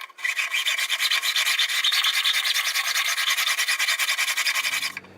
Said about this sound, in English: So I'm going to run this along the edges of the frets and file that